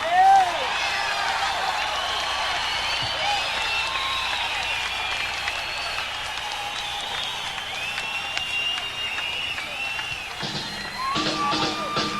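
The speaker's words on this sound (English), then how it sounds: "It's interesting listening to the crowd." A concert crowd at a show applauds and cheers in a dense, continuous wash of clapping with scattered whoops, steady throughout with a brief swell near the end.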